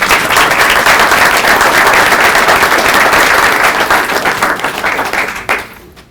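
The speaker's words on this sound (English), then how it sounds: "I want everybody to give a big round of applause for my brother, Will Roundtree." Loud, dense applause from a masterclass audience welcoming a speaker to the stage fills the room, then tapers and drops off near the end, with no talking over it.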